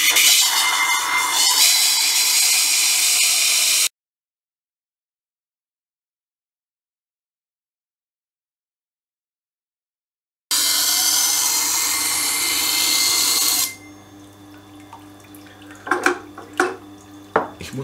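A steady, harsh grinding of a blade on a CBN grinding wheel runs for a few seconds, stops, then resumes before giving way to quieter clinks and drips.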